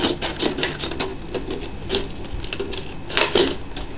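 Scissors snip and crunch through a plastic bottle in a run of sharp, uneven crackling cuts, close by, with no talking.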